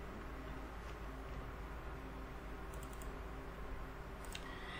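Faint keystrokes tap on a computer keyboard while entering data into an MS Excel spreadsheet, a soft, scattered clatter over steady low room hum with no talking.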